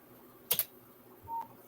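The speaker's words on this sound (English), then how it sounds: "I'm typing." A computer keyboard gives a quick pair of sharp keystroke clicks close by. A soft thump follows a moment later, over a quiet indoor room hum.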